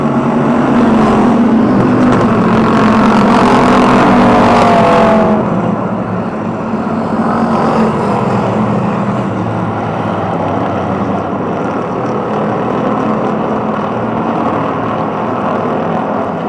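Race cars roar continuously at Motordrome Speedway, a loud sustained engine drone that sweeps by and eases slightly after a few seconds, with no talk over it.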